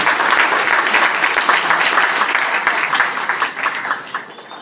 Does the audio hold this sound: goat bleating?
no